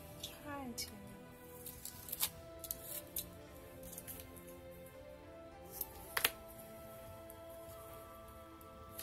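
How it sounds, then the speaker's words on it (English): Scissors snip through paper for a glue book collage, with a few short, sharp cuts scattered through the clip beneath a person talking close by. "I'm gonna cut this about there, I think."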